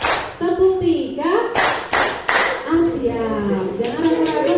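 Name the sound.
group clapping a counted rhythm, one, two, three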